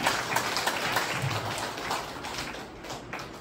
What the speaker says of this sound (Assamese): তেখেতৰ কাৰণে এটা ডাঙৰকৈ এটা হাত চাপৰি মাৰক